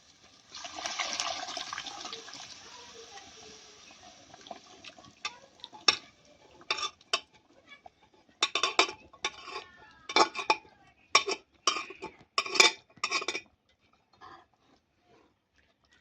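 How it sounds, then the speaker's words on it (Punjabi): White chickpeas poured into masala in a pot with a brief rushing pour, then a series of sharp metal spoon clanks and scrapes against the pot as they are stirred, close and alone. "ਹੁਣ ਆਪਾਂ ਇਹਦੇ ਵਿੱਚ ਪਾ ਦਾਂਗੇ ਜੀ ਚਣਿਆਂ ਨੂੰ"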